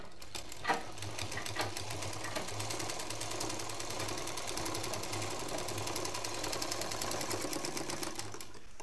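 A sewing machine stitching one side of a fabric sling bag, a steady close rapid whirring chatter that runs evenly for several seconds with no speech.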